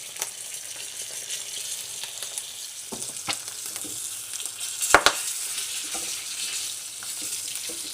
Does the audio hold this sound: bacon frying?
yes